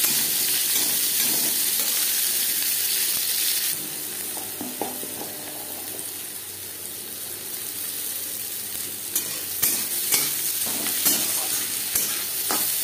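Chopped onion and slit green chilies fry in hot oil in a pan, a steady close sizzle with hiss, occasionally broken by scraping and stirring clicks as the pieces are moved about.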